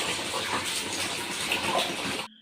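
Heavy rain pouring down in a steady, loud, dense hiss with no break, cutting off abruptly at the very end.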